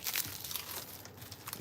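Thin shipping plastic is peeled and torn off a Bissell portable carpet cleaner hose, making quiet, close crinkling and crackling in irregular bursts with no talking.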